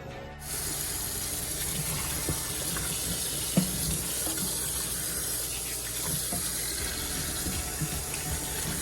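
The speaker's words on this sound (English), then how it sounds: "Now let's get my beautiful bounty all washed and cleaned up." Tap water runs steadily into a sink over freshly harvested mint plants, a continuous close splashing wash with a few soft knocks and handling sounds, no voices.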